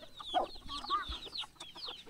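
Java chickens clucking and chattering close by, a busy run of short overlapping clucks and squawks from the flock with no talk over it.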